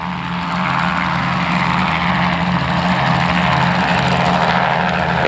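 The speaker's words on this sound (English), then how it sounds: "the unique sound of boat 69, Overkill, are those headers going out into a single pipe, making it sound like an electric razor from hell" Racing boat engine warming up at a hydroplane race, its headers feeding a single exhaust pipe, giving a loud, steady, raspy buzzing drone throughout.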